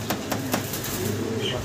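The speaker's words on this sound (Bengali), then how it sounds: "ভাই সিরাজি কবুতর।" Siraji pigeons coo in low, soft repeated calls, with a few sharp clicks and light rustling on top, all heard close.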